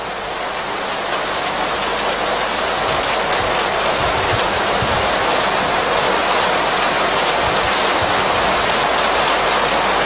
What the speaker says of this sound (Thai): เสียงลมหรือเสียงฝนก็ได